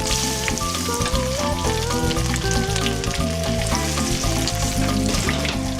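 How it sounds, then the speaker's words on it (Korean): Food fries in hot pork lard in a Vietnamese kitchen with a loud, steady crackling sizzle. It is close and constant, with some stirring and no talk. "돼지 기름으로 튀기면 훨씬 더 고소합니다."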